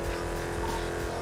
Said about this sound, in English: this car's so loud when you fucking limit it. Like stuck in second gear.